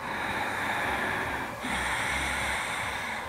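Steady, airy breathing through the nose, close up, with a slight dip between breaths and no talking.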